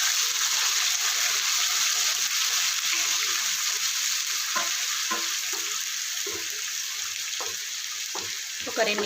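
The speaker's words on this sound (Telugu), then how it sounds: "ఒక 2 నిమిషాలు వేయించుకుందాం." Roasted onion paste frying in a pan for fish curry, a strong, even close sizzle with a few scattered scrapes of a spoon toward the end, without speech.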